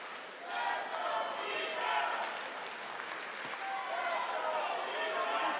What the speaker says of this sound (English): Now the chant from the crowd comes in